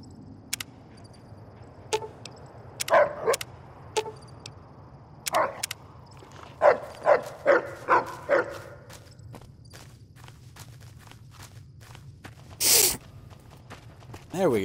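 A dog in Fallout: New Vegas gives a handful of sharp, separate barks spread across the stretch, mixed with footstep-like clicks and quiet gaps, with a short louder burst near the end.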